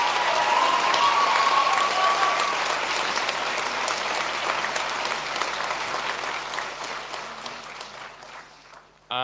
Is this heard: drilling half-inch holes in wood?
no